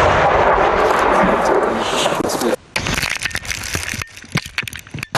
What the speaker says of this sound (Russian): Взрыв произошел